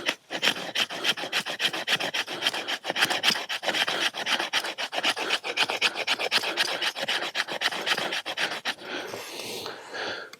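Knife blade shaving very fine curls off wood for feather sticks, with steady rapid rasping strokes up close, repeated continuously, easing off near the end.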